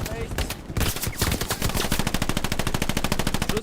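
Rapid automatic gunfire in the World War II shooter game Hell Let Loose, loud sustained bursts of close machine-gun fire that become steady and rhythmic, with no talk over them.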